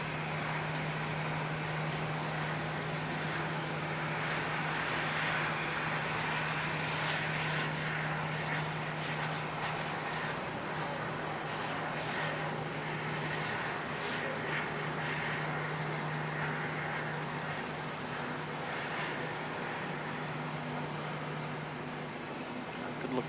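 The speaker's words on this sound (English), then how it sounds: "Good looking aircraft, that one." Airbus A330-900 jet engines at Auckland Airport in foggy conditions, a broad steady roar with a constant low hum that holds at a fairly even level throughout, distant and sustained with no break.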